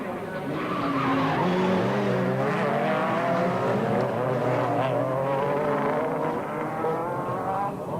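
Formula A rallycross cars at Brands Hatch in 1987 roar round the first corner in a loud, continuous pack, engines wailing and rising in pitch while tires squeal and skid throughout.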